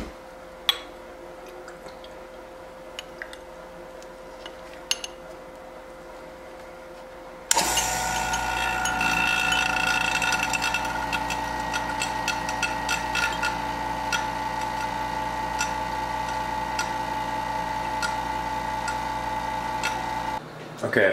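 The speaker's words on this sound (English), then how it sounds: "using this new vacuum pump I got, we're going to do a vacuum filtration with the Buchner funnel" A newly acquired vacuum pump switches on partway through, running for a Buchner funnel vacuum filtration; quiet ticks and faint room sound give way to a steady, loud motor drone that stops abruptly near the end.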